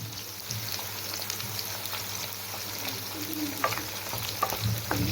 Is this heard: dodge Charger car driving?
no